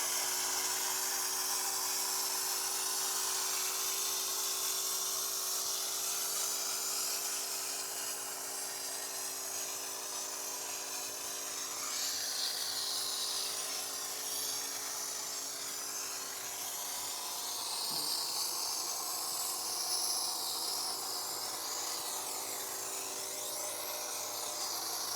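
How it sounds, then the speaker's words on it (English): A foam cannon sprays pre-wash foam diluted 1 to 50 onto a car, a continuous hissing spray with a faint steady motor hum beneath, holding at an even level throughout with no talk. "time to foam with L pre-wash diluted at 1 to 50"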